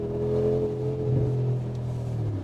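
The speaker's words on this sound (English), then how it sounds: "Listen to the pops and bangs." Exhaust of a 700 hp Brabus G-Class G-Wagon, based on the G63 AMG, giving a loud steady engine drone that winds down, with faint crackling pops as it fades.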